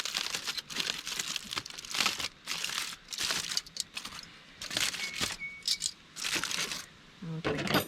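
Foil crinkles and tears at close range as wrapped cooked potatoes are unwrapped, in a series of short rustling bursts with brief pauses between them.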